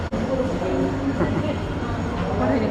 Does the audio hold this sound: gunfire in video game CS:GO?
no